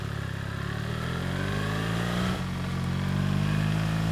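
A 2024 BMW R1300 GS Trophy motorcycle pulls away, its engine humming loud and close, dipping briefly mid-way as it shifts, then climbing to a steadier, stronger drone.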